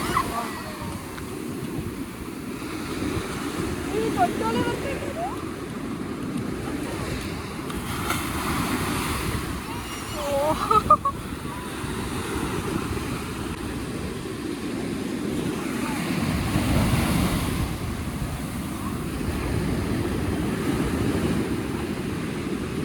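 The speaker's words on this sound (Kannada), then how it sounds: "ಸಮುದ್ರ ಗೈಸ್" Sea waves roll onto a Goa beach in a continuous surf roar, swelling and easing under buffeting wind noise on the microphone, with a brief faint voice partway through.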